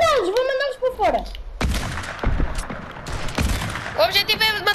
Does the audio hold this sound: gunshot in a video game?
yes